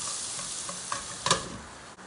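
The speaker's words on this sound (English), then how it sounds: "I'm going to slice the onion while my greens are sauteing or browning" Greens sauté in a pan with a bright, steady sizzle, broken by a couple of quick stirring scrapes and clinks partway through. No voices.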